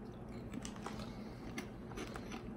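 Someone chews Bugles Bold BBQ corn snacks close to the microphone, producing a quiet run of brittle crunches and bites over a low hum.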